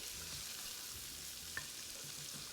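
A small onion sautés in unsalted butter in a skillet, giving a soft, steady sizzle with faint low clinks, quiet and close.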